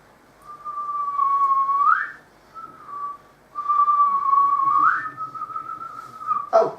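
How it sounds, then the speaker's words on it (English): Someone whistles a simple tune close by, with long sustained notes that rise at the end of each phrase, separated by short pauses. "So, what was that tune you were whistling?"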